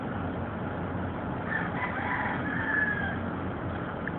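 Chickens cluck and call faintly in the distance over a steady background hum, with a few higher-pitched calls in the middle.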